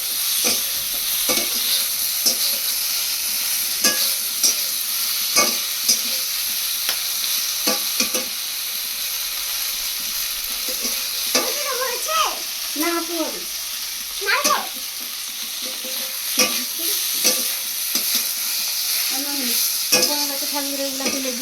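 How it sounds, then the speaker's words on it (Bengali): Okra frying in a pan, a continuous soft sizzle with occasional stirring scrapes, heard close and steady while people talk quietly in the background. "মহারানী ঢেঁড়স ভাজছে,"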